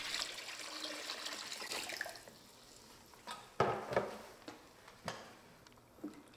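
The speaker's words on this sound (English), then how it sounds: "Here, right now, I'm adding the water." Water poured into a homemade JADAM sulfur germicide mixture, a soft splashing pour at first, then scattered drips and light knocks at low level.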